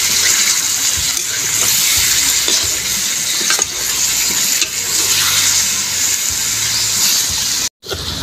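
Water goes into a pan of sautéing pork bones and fat with tomato, making a continuous loud gushing, bubbling sizzle that cuts out for a moment near the end, with no voices.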